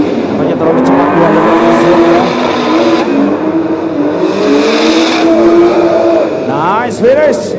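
Two BMW drift cars running a tandem layout at Sentul International Circuit, engines droning and revving steadily with rising and falling pitch, tyre squeal toward the end, under continuous loud commentary.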